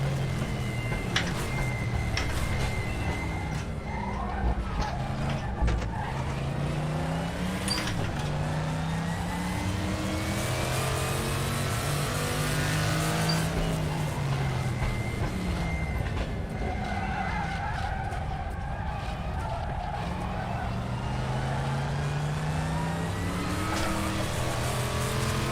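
Group 5 race car engine in the RaceRoom racing game, a loud continuous roar rising and falling through gear changes, with occasional tyre squeal and no voices.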